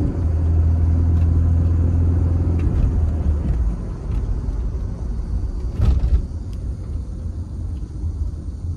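A Mercedes E230 Elégance with a 150 hp engine drives along in eco mode, giving a steady low rumble of engine and road noise that eases slightly partway through, with a brief knock near the end.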